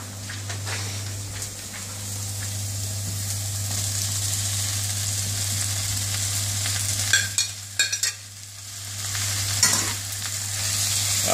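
Bok choy, mushrooms and corn sizzle steadily in a hot pan for hoisin vegetables, a continuous close frying hiss with a low hum beneath and a few sharp stirring clatters near the end.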